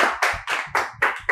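An audience claps at an AC circuit board repair training course, about six loud bursts of applause in quick succession.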